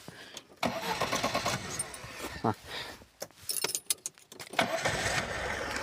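A VAZ 2101 car engine, fitted with a replaced gas reducer, cranks and starts, with keys jangling and a loud, uneven mechanical rumble rising and dropping as a person talks over it.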